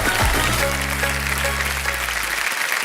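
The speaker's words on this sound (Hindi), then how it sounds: "देखो सब जोरदार तालियां बज जाएं इनके लिए।" A television game-show studio audience on Kaun Banega Crore Patti bursts into loud, dense applause, clapping steadily throughout with a low musical tone swelling beneath and fading near the end.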